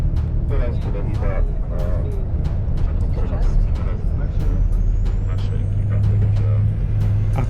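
A tour bus driving between the pyramids at Giza, with a steady engine drone and road rumble heard from inside, under ongoing talk.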